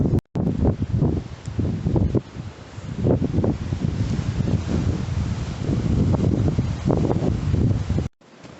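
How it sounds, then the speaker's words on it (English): Strong gusty wind buffets the microphone in uneven, rumbling bursts throughout, loud and close, with no voices. "It's very windy, Alison."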